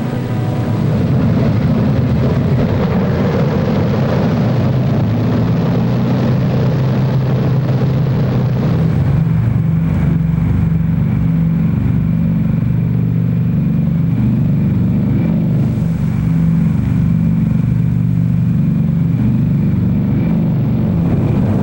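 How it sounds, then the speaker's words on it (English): B-29 Superfortress bomber engines at takeoff, heard in a wartime Army propaganda film: a loud, continuous roar of piston engines that holds steady and shifts in tone partway through, with no speech. "The men are ready for the takeoff."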